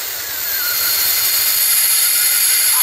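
The engine of an abandoned SUV, called the fastest in the world, runs at a steady idle just after its first start, a loud, even roar that swells slightly at the start, with a high whine above it.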